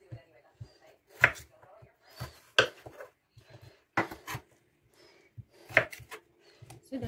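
A knife chops potatoes into chips on a wooden board in irregular, sharp thuds, some louder and close, with quiet gaps and soft talk in between.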